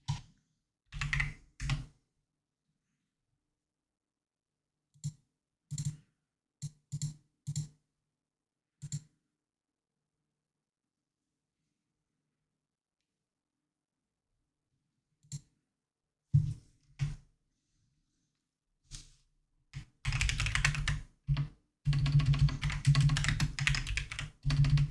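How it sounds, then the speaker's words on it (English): Computer keyboard typed on while pushed back on a desk during an art stream, heard as short bursts of clicking keystrokes separated by silent gaps, building to a dense continuous flurry of typing at the end. "it's so hard to type with the keyboard like this"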